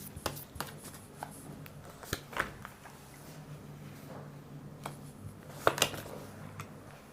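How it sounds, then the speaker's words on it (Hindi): Tarot cards being shuffled and laid out during a reading, soft close riffling and sharp card snaps scattered irregularly, with one louder burst of shuffling near the end; quiet room, no talking. "पहले सारे कार्ड्स निकाल देती हूँ"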